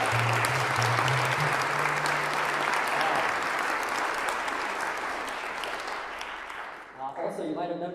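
A choir concert audience applauds at length, a dense, steady wash of many hands that holds strong and then thins and fades near the end as a voice begins speaking.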